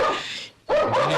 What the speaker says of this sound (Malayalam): പോലീസും പട്ടിയൊക്കെ എത്തിയെന്ന് കേട്ടു.